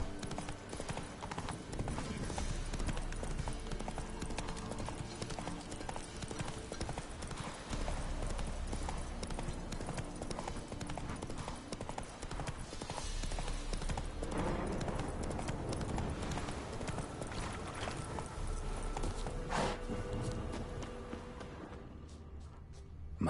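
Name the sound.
horse Roach galloping in The Witcher 3 video game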